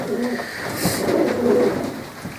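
Soft, low pigeon cooing rolls along with a gentle throaty murmur, mixed with faint background noise and a brief higher chirp near the middle.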